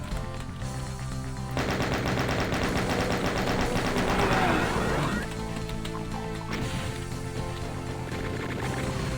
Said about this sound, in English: A barely visible chain gun.